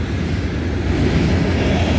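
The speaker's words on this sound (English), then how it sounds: "this train is heading towards Montreal, Quebec" A CN freight train rolls past at night somewhere in the Saskatchewan prairies, bound for Montreal, giving a steady, loud broadband rumble and roar with no break across the whole stretch.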